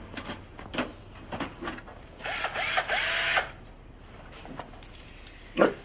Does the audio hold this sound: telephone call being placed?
no